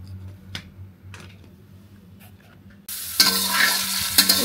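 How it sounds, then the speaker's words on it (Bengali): Pumpkin seeds hit a hot pan and break into a loud, steady sizzle of frying after a few quiet clicks and taps, close up with no talking. "ভাজি করতেছি কুমড়ো বিচির ভাজি।"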